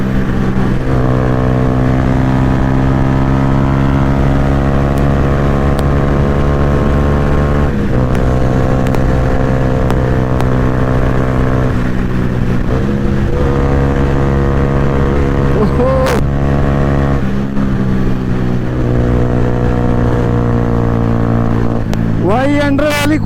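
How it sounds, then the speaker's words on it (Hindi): A Yamaha R15 motorcycle fitted with a loud Akrapovic exhaust revs close by, again and again. The engine holds a loud rumbling idle between several blips that rise sharply in pitch. "काफी ज्यादा चिल्ला रही है भाई बाइक।"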